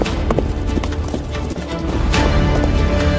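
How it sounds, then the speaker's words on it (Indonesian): Horse hooves gallop at a steady, driving rhythm through a forest, loud and close with continuous rumbling under the beats and no talking. "Derap langkah kuda menggetarkan seisi hutan."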